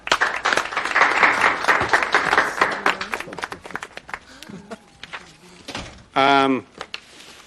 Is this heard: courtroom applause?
yes